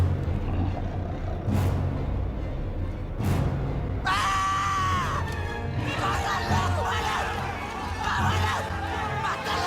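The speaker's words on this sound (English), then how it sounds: "So everybody screams" A crowd of people screams and shrieks in a dinosaur chase scene from The Lost World: Jurassic Park, loud and continuous over rumbling engine-like noise and heavy thuds.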